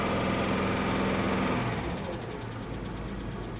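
An old car that has sat unused for a long time idles roughly just after starting, a steady low rumble with a slight drop in level partway through, heard alone with no talk.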